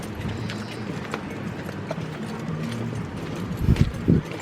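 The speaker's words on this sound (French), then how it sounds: "Ah bah ils sont là-bas les chevaux." Horses' hooves clip-clop faintly at a distance on a windy Greek beach by a hotel, the steady plodding rising into a few louder close thuds near the end under gusting wind.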